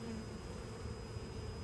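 Honeybees buzz at the hive entrance in a dense, steady drone, close and continuous, with no voices over them.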